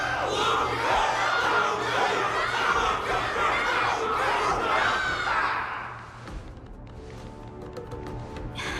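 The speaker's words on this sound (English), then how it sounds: "Can't you hear? Everyone's cheering for you," A loud game crowd in Honkai: Star Rail roars and cheers with battle-cry shouts for about six seconds, then drops to a quieter murmur with scattered calls.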